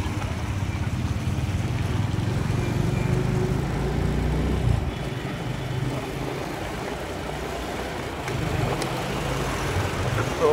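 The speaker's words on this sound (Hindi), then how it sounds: "ज़्यादा ट्रैफिक में हम गाड़ी नहीं चला सकते।" Steady engine rumble of road traffic in Udaipur, the lake city, on a hot midday, with a continuous low drone of passing vehicles close by and a brief dip near the middle.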